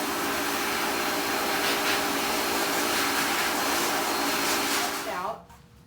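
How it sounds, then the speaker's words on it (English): A hair dryer blows steadily and loudly on a fluffy dog, a constant close whoosh that cuts off abruptly near the end. "Look at how fluffy he is. And being all blow dried."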